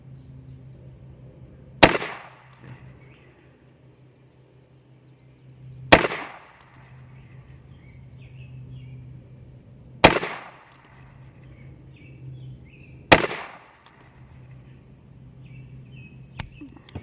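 Four sharp .22 LR rifle shots from a Mossberg 351CD firing Herters ammunition, evenly spaced about four seconds apart outdoors, each a crisp crack with a short ringing tail over a low steady hum.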